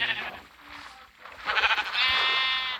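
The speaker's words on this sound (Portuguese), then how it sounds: "Ovelha!" A sheep in a video game bleats loudly and close, a long wavering call that rises and holds at the end, with no talking over it.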